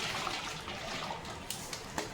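Water sloshed around inside a spaghetti pot to rinse out leftover sauce, a short steady swishing splash with a few sharper slaps near the end, close and fairly loud.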